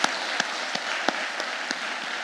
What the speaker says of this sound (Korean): 우리 박수랑 격려 한번 할까요?